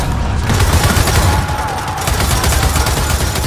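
Enemy gunfire in Gears of War 4, a dense, continuous barrage of rapid shots and booms that fills the whole moment at close, loud level.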